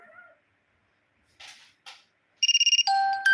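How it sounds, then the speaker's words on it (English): Phone alarm ringtone starting with quick beeping pulses, then a steady electronic ring, loud and close. It follows a few soft animal-like sounds and quiet gaps. "Oh, there's my alarm."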